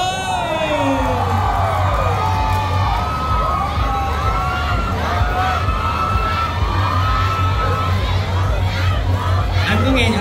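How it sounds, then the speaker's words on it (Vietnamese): Large crowd at a Vietnamese red carpet event for a music show launch, shouting, whooping and cheering loudly and continuously close by, with a presenter talking over it. "Anh có nghe những tiếng hò hét của ba không ạ?"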